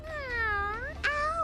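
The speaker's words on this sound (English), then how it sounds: "Cat?" A cat meow from an animal sound toy, a drawn-out tonal call followed by a brief second chirp, near and clear with nothing else over it.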